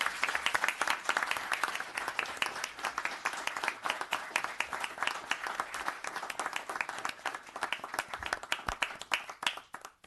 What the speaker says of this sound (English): I get a very nice round of applause for Lieutenant Matthew Rassiopo.